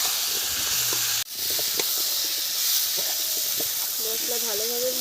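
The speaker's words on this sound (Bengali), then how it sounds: "এই যখন এখন ভাজা হতে থাকবে, পেঁয়াজ আলু কচু সব একসাথে সুন্দরভাবে ভেজে নেব।" Onion, potato and taro frying together in a pan with turmeric, salt, cumin and chilli, a steady loud hiss and sizzle that continues throughout, briefly cut off by a sharp break early on.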